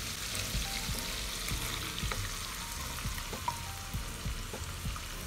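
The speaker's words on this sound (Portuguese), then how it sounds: "Vou jogar a nossa cebola para cristalizar." Chopped onion sizzles steadily in unsalted butter in a pan, a continuous close crackle with occasional soft stirring taps and no talking.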